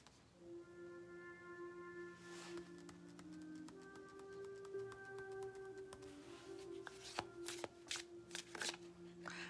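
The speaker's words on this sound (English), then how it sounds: "I'm pulling an extra card for you." Tarot cards are shuffled close by in soft riffling bursts, with sharper snapping taps near the end, over a faint sustained tonal hum in the background.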